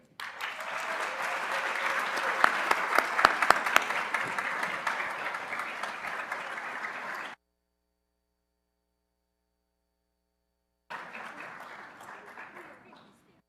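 An audience at a university employee recognition ceremony applauds award winners in a sustained burst of clapping. After a brief silence, a second, shorter round of applause follows and fades.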